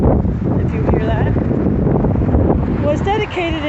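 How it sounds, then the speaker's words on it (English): Gusty outdoor wind buffets the microphone outside a church in Union Beach, New Jersey, a steady low roar filling the whole stretch, with faint voice-like sounds near the end. "sorry about the wind"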